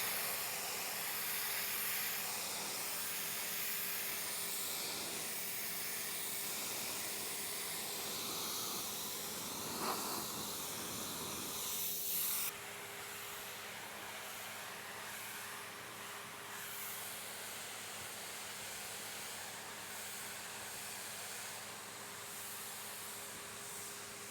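A compact tractor's PTO-driven pressure washer sprays steadily with its PTO running at 450, a dense hissing rush that holds loud and continuous, then shifts to a slightly different, thinner spray partway through.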